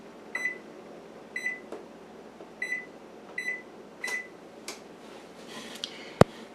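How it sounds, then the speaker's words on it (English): A kitchen oven being switched on and set to 375 degrees, its control panel giving five short, evenly spaced electronic beeps at close range, followed by a few soft clicks and a sharp tap near the end. "I need to turn the oven on, 375 degrees"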